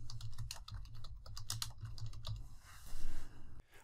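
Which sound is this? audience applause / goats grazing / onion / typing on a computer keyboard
typing on a computer keyboard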